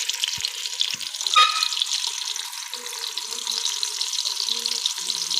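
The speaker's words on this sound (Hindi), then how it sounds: "आँच हम तेज़ कर देते हैं, तो इसे हम 30 से 40 सेकंड तक हम इसे फ्राई करेंगे अच्छे से" Food sizzles in a kadhai over high heat for a namkeen Peshawari handi, a steady hissing fry with faint clinks of stirring, close and even, with no talking over it.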